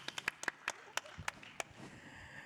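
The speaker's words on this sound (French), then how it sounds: "on peut applaudir quand même" Scattered hand claps from a small audience at a round-table panel discussion, a dozen or so sharp separate claps over a couple of seconds, fairly faint and thin, with no voices over them.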